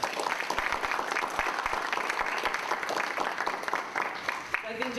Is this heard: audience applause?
yes